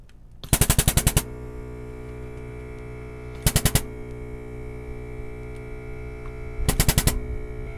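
A trigger-operated grease gun pumps grease into a zerk fitting on an RV tie rod in three quick rattling bursts of rapid clicks, loud and close, over a steady mechanical hum.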